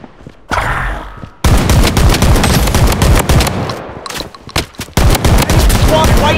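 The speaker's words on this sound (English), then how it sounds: "taking fire!" Dense bursts of automatic gunfire from the Blood Strike battle royale mobile shooter, loud and near, with brief gaps between volleys.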